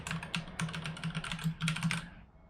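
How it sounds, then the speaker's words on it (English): Quick, close bursts of typing rattle across a computer keyboard, with steady keystrokes for about two seconds before stopping. "We're going to type transmission first"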